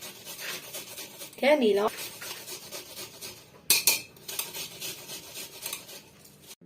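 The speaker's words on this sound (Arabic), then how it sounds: "بعد ما حكيت البصله" A whole onion rubbed against a kitchen grater gives a steady run of soft, rasping strokes throughout, close and moderately loud. A short spoken word cuts in early, and a sharp metallic clink of a utensil follows midway.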